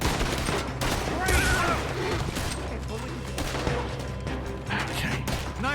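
Sustained gunfight in Red Dead Redemption 2, a continuous, close barrage of shots and rattling fire with no pause, forming a loud, busy battle din.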